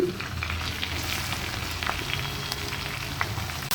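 Chopped onion fries in a pan with ghee, bay leaves, and dried and green chillies, giving a steady, close sizzle with scattered crackles and pops.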